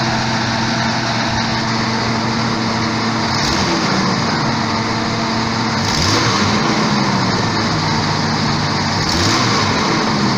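A 1989 Jeep XJ engine runs rough and close to stalling at high RPM. It makes a steady, loud mechanical drone whose pitch wavers and dips, with no voices.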